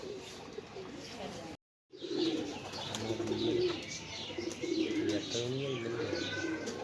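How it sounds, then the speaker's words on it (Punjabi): Pigeons, including a white one, coo in low, rolling bursts nearby during flying practice in Sialkot, with brief chirps and people talking over them after a short silent gap. "ਇਹ ਚਿੱਟਾ ਕਬੂਤਰ ਹੈ ਜੀ"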